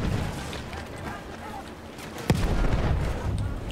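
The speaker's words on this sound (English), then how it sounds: "Oh shit, they're shooting from a distance." Distant gunfire and artillery in Battlefield 1 multiplayer: a low, rumbling battlefield din with one sharp boom partway through, followed by continued muffled firing.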